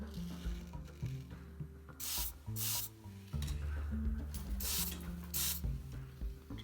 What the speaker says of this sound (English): you take this silicone lubricant and I just do a couple sprays like that